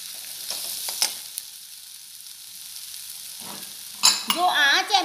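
Masala for chole frying as ginger slices are added and stirred: a low sizzle with a few spoon scrapes and clinks, quieter mid-clip, then a louder burst of sizzling and stirring near the end.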